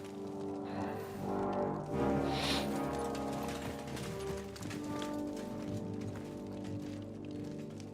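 Horses' hooves clip-clopping in the video game Kingdom Come: Deliverance 2, faint steady hoofbeats mixed with creaking and mechanical clatter under low background sound.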